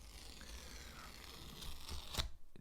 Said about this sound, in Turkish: Şöyle güvenlik bantlarını cayırdatalım.